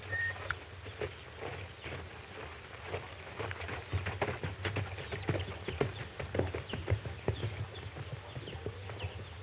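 Horse hooves clip-clop steadily on the ground in an old 1935 western film scene, a continuous uneven patter of moderate loudness running throughout with a faint hiss and no talk.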